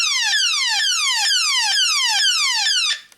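Transformers G1 Shockwave toy sounding its electronic alarm: a loud, shrill, repeating downward-sweeping tone cycling steadily about every half second, close by and alone, cutting off near the end.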